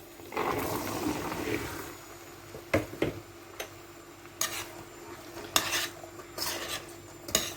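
Dried beans go into a pan with tomato and pepper paste for a meatless bean stew and are stirred, giving sparse scrapes and sharp clinks of a spoon against the pan over a faint sizzle, with no talk.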